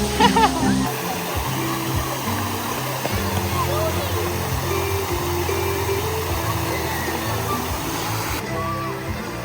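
A park fountain splashes in a steady, loud rush of falling water that continues unbroken throughout, with faint voices mixed into the background.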